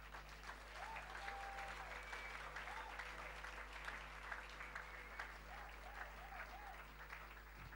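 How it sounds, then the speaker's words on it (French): A church congregation applauds, producing sustained, even clapping from many hands at a moderate distance, with a steady low hum underneath and faint voices in the crowd. "Nous acclamons le Seigneur très fort et nous le bénissons"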